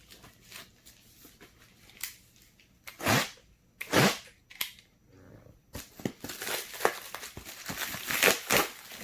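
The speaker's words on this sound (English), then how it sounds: "I can kind of feel it in the bubble mailer, so that's a little bit different. I usually don't get games outside of the box. So yeah, we'll cut this open" Crinkling and sharp tearing bursts as a bubble mailer holding a video game is cut and pulled open, close up, with scattered rustles between the louder rips.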